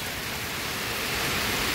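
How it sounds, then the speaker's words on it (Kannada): Heavy rain pouring down outside a home on a cloudy, stormy day, a dense and steady hiss of downpour that fills the air close by, with no talking. "ಆ ರೀತಿ ಮಳೆ ಸುರಿತಾ ಇದೆ."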